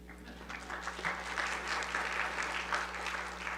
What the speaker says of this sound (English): Come on, clap for yourselves.